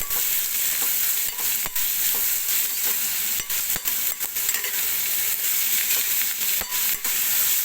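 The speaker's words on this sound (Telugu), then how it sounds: "సో దీన్ని ఇట్లా మనం కొంచెం ఫ్రై లాగా చేసేసుకున్నాము" Onions sizzle and fry in a pan for a hotel-style potato curry, with steady loud hissing and repeated sharp scraping clicks from a spoon stirring throughout, no talking.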